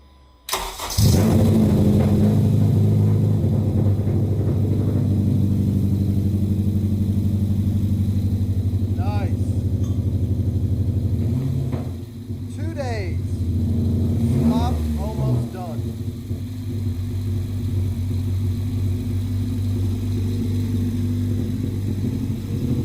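A Honda CR-Z with a K24 engine swap cranks and fires, then holds a steady, loud idle close by with a few blips of revving, while people talk over it.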